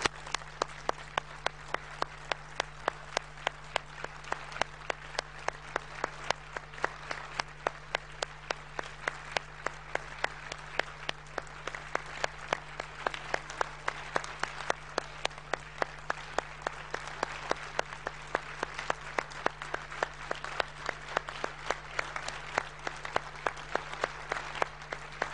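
Sustained audience applause fills a hall in Brussels, a dense, steady patter of many hands clapping for about twenty-five seconds, with a low electrical hum beneath and no voices.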